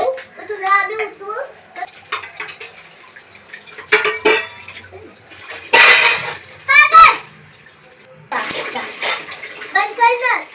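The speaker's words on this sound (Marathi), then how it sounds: "भांड्यांचा आवाज आला म्हणून उठली" Dishes clattering and running water in a home kitchen, intermittent clinks and splashes heard between children's and adults' chatter close by.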